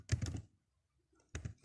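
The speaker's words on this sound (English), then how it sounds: "in the Source box, you type in the list that you want" Two short bursts of clattering keystrokes on a computer keyboard, close and quiet, separated by a pause of near silence.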